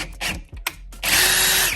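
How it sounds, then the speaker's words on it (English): A power drill bites lightly through two pieces of wood, a couple of short buzzing starts followed by a loud, steady whine close by. "I'm not going super hard all the way into it. I'm just a light drill."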